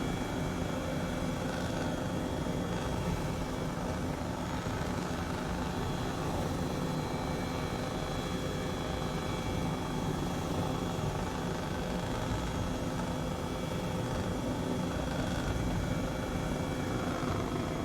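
A helicopter in Microsoft Flight Simulator flying a Southern California air tour: a continuous, steady rotor and engine drone with a faint tonal whine, unchanging for the whole stretch and with no talking.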